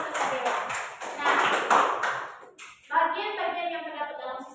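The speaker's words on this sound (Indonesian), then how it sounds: "Tepuk tangan untuk Sadewa" A classroom gives a short burst of applause, a dense patter of clapping for about two and a half seconds, with children's voices coming in as it fades.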